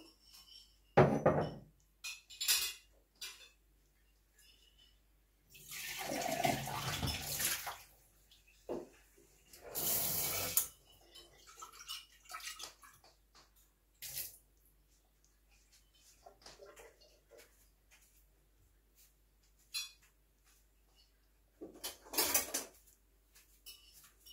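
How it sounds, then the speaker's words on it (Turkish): Boiling water poured out of a glass jar after disinfecting it for winter tomato sauce, coming in a few sloshing, splashing bursts between quiet stretches, with light knocks of glass and kitchen handling. "Şimdi içindeki kaynar suyu boşaltıyorum"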